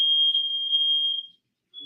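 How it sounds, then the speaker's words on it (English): A household smoke or fire alarm shrills with a steady, piercing high-pitched tone, loud and close, that cuts off briefly before sounding again. "Oh, my fire alarms are going off."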